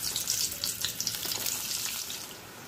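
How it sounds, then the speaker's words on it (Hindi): Eggplant pieces fry in hot, reddened oil in a kadhai, giving a steady, close crackling sizzle with dense bright spatter throughout and no voices. "अभी बैंगन तलेंगे।"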